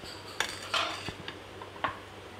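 A spoon knocks and scrapes against a big bowl as cake paste is added for an ice-cream parfait: four or five sharp, close clinks spaced irregularly over a quiet background, with no speech.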